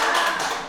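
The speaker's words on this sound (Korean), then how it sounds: "박수 치면서 신난다 해봅시다." A church congregation claps hands together in a short, bright flurry of many overlapping claps that fills the room evenly and then fades slightly.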